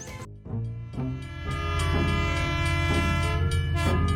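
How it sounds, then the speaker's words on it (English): A train sounds its whistle in long, loud repeated blasts while rolling steadily along the tracks, heard up close with no talk. "The train whistles loudly and moves steadily on the tracks."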